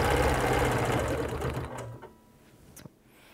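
Sewing machine stitching a chain of quilt pieces, a loud steady run of fast needle strokes that slows and stops partway, followed by quieter handling and a single sharp click.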